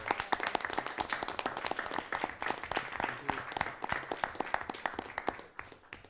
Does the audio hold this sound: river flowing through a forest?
no